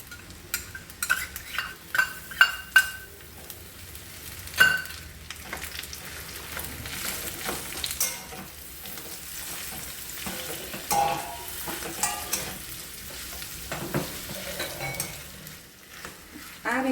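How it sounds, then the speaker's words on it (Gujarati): Dates and figs stirred and fried in ghee for khajur pak: a constant soft sizzle runs throughout, broken by repeated scraping and clinking strokes of a spatula against the pan, close and fairly loud. "આ જ ઘીની અંદર આપણે ખજૂર એડ કરી દઈશું. અંજીર પણ આપણે સાથે જ એડ કરી દઈશું."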